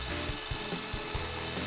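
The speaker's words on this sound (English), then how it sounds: "So then I tried to make a dowel by spinning the blank in a drill while running it over a belt sander." A wooden dowel blank spun in a drill rasps against a running belt sander, giving a continuous gritty rubbing with a few rhythmic thumps from the turning workpiece, close and steady with no talk.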